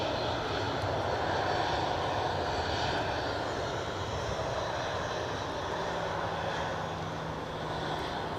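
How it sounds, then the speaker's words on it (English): An EasyJet jet airliner at snowy, windy Newcastle Airport produces a steady, broad engine roar from some distance, continuous throughout with no talk. "Got an EasyJet pushing back as well."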